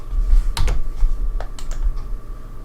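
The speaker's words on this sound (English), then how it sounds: "I tried typing it" Typing on a computer keyboard, a short burst of scattered key clicks at close range over a steady low hum, no one speaking.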